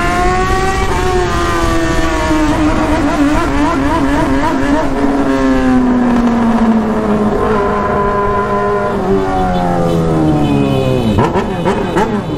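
A Honda Hornet motorcycle with a 3-inch straight pipe and no muffler revving hard, loud and close, its pitch sweeping up and down in long stretched revs with a sharp blip near the end.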